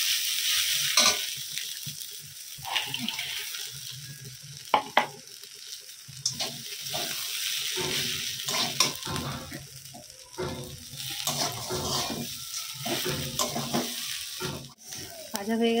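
Small fish with onion and chili fry in a pan while being stirred, making a loud sizzle broken by repeated scraping and clattering strokes of the spatula.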